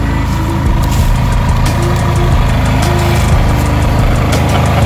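A small tractor engine idles loud and close, a steady low throbbing drone with a constant rumble and no voices over it.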